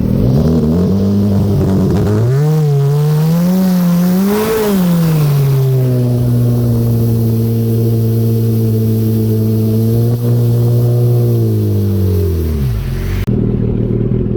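Turbocharged Yamaha SHO jet ski engine with its boost controller set to about 16 psi runs loud and close, climbing and rising in pitch several times, then holding a steady drone before winding down and cutting out.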